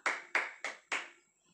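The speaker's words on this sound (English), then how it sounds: "Give a clap to yourself." Four separate hand claps land in a steady rhythm, loud and close, with no talking, as young kindergarten children in an online English handwriting class clap for themselves.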